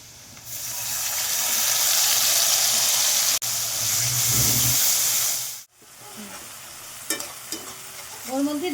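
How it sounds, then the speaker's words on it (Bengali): Spice paste meets golden-brown fried onions in a hot pan, giving a loud, steady sizzle and hiss with stirring scrapes and a brief lull near the end. "এরপর আমি যে মিক্সিতে মশলাটা পেস্ট করে রেখেছিলাম সেই পেস্টটা আমি দিয়ে দেবো"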